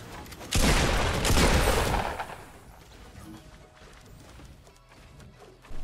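Gunfire in the Fortnite Battle Royale video game erupts in a dense, loud burst of rapid cracking shots for over a second, then fades into quieter scattered shots and background game noise.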